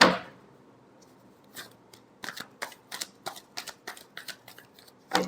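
Tarot cards are shuffled close by in a quick run of crisp riffling snaps, about a dozen short bursts in a row, with a louder flutter at the start and end and no talking.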